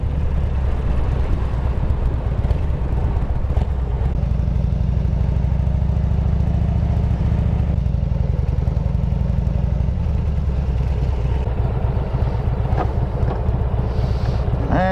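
A Harley-Davidson touring motorcycle rides along and pulls in, its deep engine rumble steady and close with heavy wind buffeting the microphone throughout, no voices.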